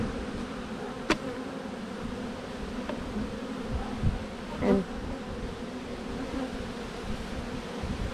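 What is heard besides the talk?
honeybees buzzing around hive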